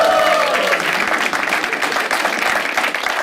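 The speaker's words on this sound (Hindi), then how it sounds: "हम लोग क्या एक बार शाद के लिए ताली बजा सकते हैं?" Live audience at a stand-up comedy show applauding comedian Shaad, a continuous burst of clapping that stays loud and even throughout, with faint crowd murmur mixed in.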